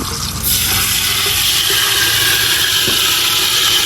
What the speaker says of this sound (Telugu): నూనె అయితే పోసేసుకుందాం.